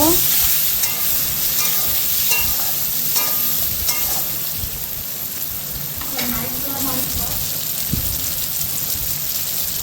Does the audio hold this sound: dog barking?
no